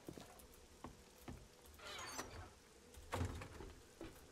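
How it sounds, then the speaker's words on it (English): Rain falls in the survival video game 7 Days to Die as a faint, soft patter, with scattered light taps and a brief wash of hiss over a few seconds. "Because it's raining."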